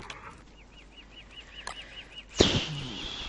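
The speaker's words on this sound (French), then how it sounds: "Typical oiseau de merde quoi." A bird in the survival video game Don't Starve flaps in a quick, even run of soft repeated beats, ending in a sudden louder burst of game sound.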